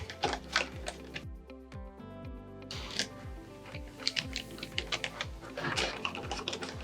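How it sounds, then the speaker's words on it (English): Screws being driven into an electronic deadbolt, with quick clicky ratcheting turns and close handling taps in short bursts, no talk. "let me go ahead and grab this and screw in these 2 screws"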